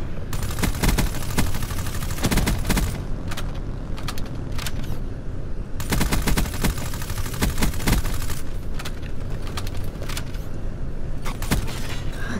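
Nonstop rapid gunfire in the Call of Duty Black Ops 3 shooter game on the Fractured map, dense clattering bursts with sharp cracks running continuously at full loudness, with no voices.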